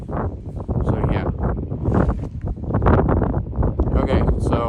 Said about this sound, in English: It might be a little windy.